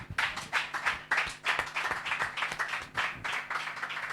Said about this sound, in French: On se tient debout, on acclame fortement le Seigneur.